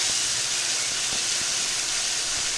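Spice paste fries in a pan for Bengali chhana dalna, producing a loud, continuous close-up sizzle with occasional soft knocks of stirring.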